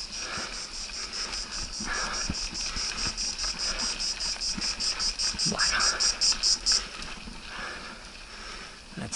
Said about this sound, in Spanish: chicharras.